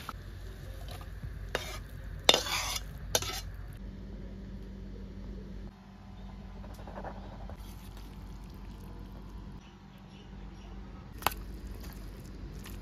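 Pumpkin leaves and prawn curry being stirred in a pan, with a few sharp scraping strokes early on over a low steady hum and faint background noise, fairly quiet and without speech.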